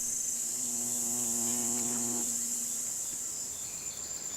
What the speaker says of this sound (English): various kinds of bees and wasps